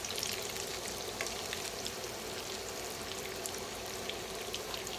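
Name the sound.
egg foo young frying in a pan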